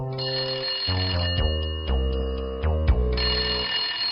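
A telephone bell rings loudly in repeated bursts, each ring cutting off and restarting with a metallic rattle, close by and alone.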